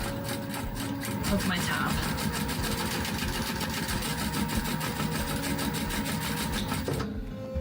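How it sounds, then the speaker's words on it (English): Sewing machine topstitching down the sides of a fabric tab for a mini traveler sling bag, a steady close rapid mechanical whir that runs continuously and stops near the end, with someone speaking briefly over it. "I'm just going to run down both sides"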